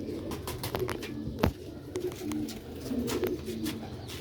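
Rooftop pigeons coo softly in repeated low, throaty calls, fairly quiet against a steady background hum.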